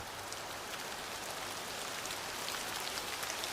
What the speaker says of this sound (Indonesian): Malam sungguh gulita, disertai rinai, hujan merintik dan Midas tetap bertahan